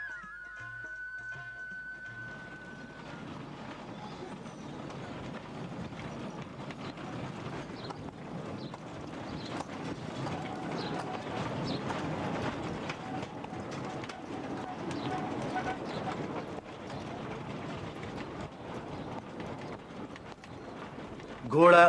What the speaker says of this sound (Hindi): घोड़ा पटरी के दरमियान में दौड़ता है।